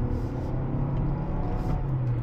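Toyota RAV4 Hybrid accelerating to match traffic speed, heard from inside the cabin as a low, steady engine and road rumble that holds constant without distinct revving.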